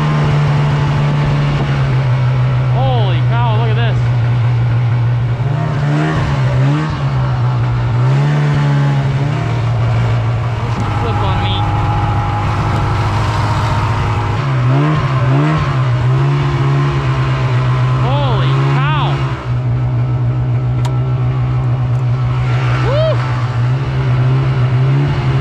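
A vehicle engine drones loudly and steadily along a snowy trail ride to an ice fishing camp, its pitch rising and dipping as it accelerates and eases off, close and continuous, with occasional voices underneath.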